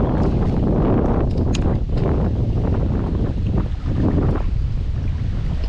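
Strong wind buffeting the microphone beside the Beaverkill River in the Catskills during fly fishing, a loud, constant roaring rumble with gusty swells throughout.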